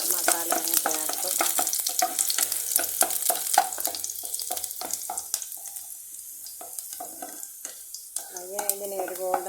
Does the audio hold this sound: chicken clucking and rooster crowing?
no